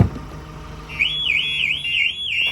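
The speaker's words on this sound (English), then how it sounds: "You get the Ford alarm, the Starline alarm, the horn honk, phone calls, you get the lot." A Ford Transit Custom van alarm in remote start mode starts about a second in, a loud rising and falling electronic warble that repeats steadily over low background rumble.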